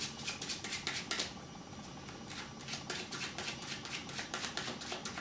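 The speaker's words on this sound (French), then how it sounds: "D'abord une coupe, puis vous mélangez." Playing cards being cut and shuffled by hand, giving a quick run of crisp riffling flutters in repeated bursts, with nobody talking.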